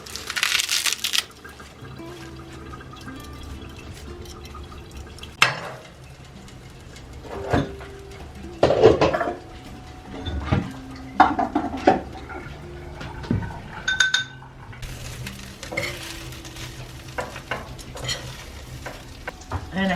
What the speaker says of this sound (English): So now I'll put a little ghee in my pan because I'm going to saute those stems from the kale